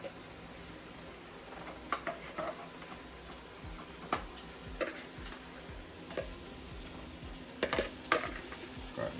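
Seasoned chicken back fries quietly in a pot, a soft low sizzle broken by scattered sharp ticks and clinks of a utensil stirring against the metal.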